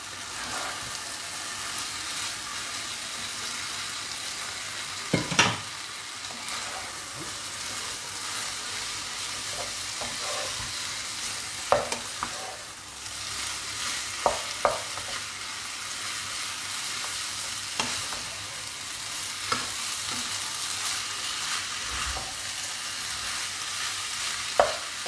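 Spaghetti stir-fried with colourful capsicum in a pan, a steady sizzle under occasional sharp scrapes and clinks of a spatula, close and continuous with no talking.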